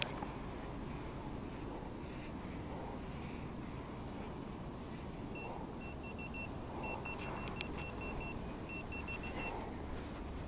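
A metal detector sweeping a beach swimming area beeps at a buried find, faint rapid repeated electronic chirps in short clusters over a steady low background hiss.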